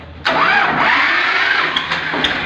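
A tractor fitted with a self-start motor cranks and then fires up, with a whirring starter whine that settles into a loud, steady idle. A few faint clicks come near the end.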